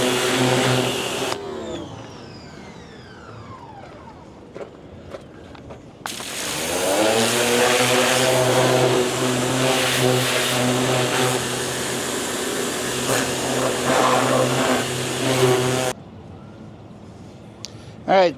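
A DeWalt 2600 PSI gas jobsite pressure washer runs loud and steady for about ten seconds, its engine drone and spray hiss filling the space, with quieter idle stretches and engine spin-up sounds before and after.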